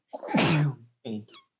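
One loud, close sneeze with a sharp burst, then a brief softer follow-up sound.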